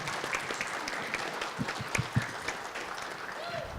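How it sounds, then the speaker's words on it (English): An audience applauds at a townhall discussion on addiction, steady moderate clapping from a mid-sized crowd with a few sharper individual claps standing out. "And now, a super round of applause for the man who put this together"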